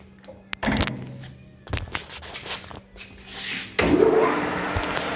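A Millport 1540 gap bed lathe running quietly while being shifted through its gears, with a few sharp mechanical clunks and thumps from the gear changes, then a steady louder machine whir in the last second or so.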